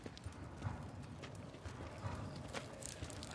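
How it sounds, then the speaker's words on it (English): Horse hooves clip-clop at a steady walking pace on hard ground, a few animals moving fairly close in a quiet outdoor setting, with a faint whinny and low background murmur. "Horses."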